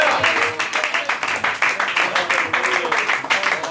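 A church congregation claps in a quick, steady rhythm, dense and fairly close, the rhythmic claps filling the whole stretch with a few voices mixed in.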